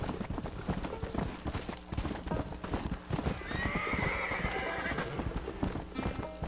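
Rhythmic horse hooves clip-clop steadily in Red Dead Redemption, loud and close, with a whinny rising over the galloping midway through.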